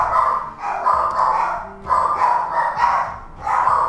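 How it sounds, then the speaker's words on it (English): Dogs barking upstairs in a house, muffled repeated bursts of barking at steady moderate loudness, no speech over them. "the dogs are freaking out upstairs"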